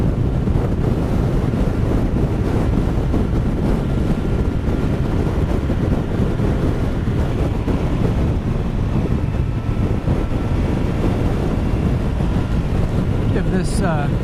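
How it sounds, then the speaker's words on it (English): Wind roars steadily against the microphone during a motorcycle ride on Maui at about 50 miles an hour, a loud broadband buffeting that fills the whole stretch with no speech. "I can definitely feel the wind's blowing today."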